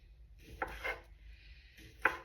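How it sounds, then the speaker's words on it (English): A knife cuts through Polska kielbasa into thin slices on a board, with two or three soft, close cutting strokes and a sharper tap near the end. "So I'm going to cut these up into very thin slices"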